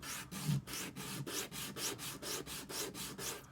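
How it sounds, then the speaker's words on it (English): Sandpaper rubs back and forth across a small wooden block in quick, even strokes, about a dozen close rasping passes in a steady rhythm. "I'm just going to sand this."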